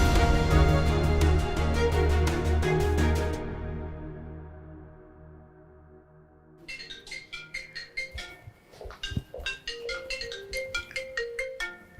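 A telephone ringtone plays loud and alone, a repeating melodic electronic tone that fades out midway before a second, choppier ring pattern starts up in quick rhythmic pulses.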